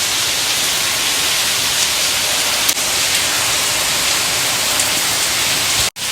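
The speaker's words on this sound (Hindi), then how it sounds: "सुबह सुबह इतनी प्यारी बारिश हो रही है" Morning rain pours into an open home courtyard in India, a dense, even hiss of falling water that stays loud and steady throughout with no voices.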